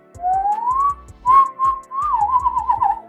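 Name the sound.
inward whistle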